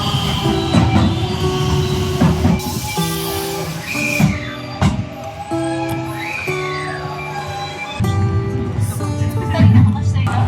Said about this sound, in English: I just got back to Kyoto on the train